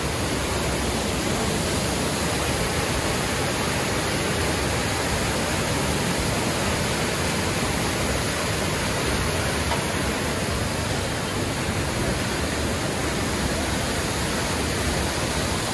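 A waterfall in Jamaica gives a loud, unbroken roar of rushing water that stays steady and close throughout, with no voices heard.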